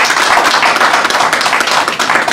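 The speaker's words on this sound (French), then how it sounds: "qu'on vous applaudisse d'abord très fort pour avoir initié cette activité" An audience bursts into loud, dense applause that stays strong and steady through the short moment, with no voices heard over it.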